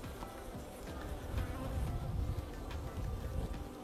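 Honeybees buzzing in an opened beehive during a January inspection, a soft, steady swarm drone close by that swells slightly, with no talking.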